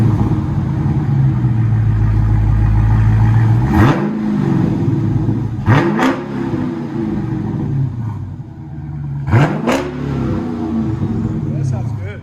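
A car engine revs up hard three times, with sharp rising and falling surges between stretches of idle rumble. It is close and loud, and a few voices speak between the revs.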